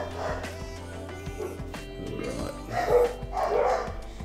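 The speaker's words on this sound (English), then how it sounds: "Oh, dogs are going nuts." Several dogs bark near a home during a watercolor painting session, with a few sharp woofs and yips scattered over soft background music, growing louder toward the end.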